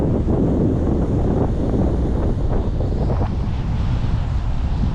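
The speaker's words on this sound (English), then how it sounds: "It is still very windy, but it's beautiful around here." Strong wind buffets the microphone at the beach in Blue Bay, Mauritius, a loud, continuous roaring rush that barely lets up from start to finish.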